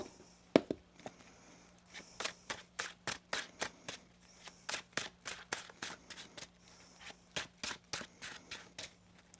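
A deck of cards being shuffled by hand, a quick series of soft riffling bursts and taps in an even rhythm, close and quiet.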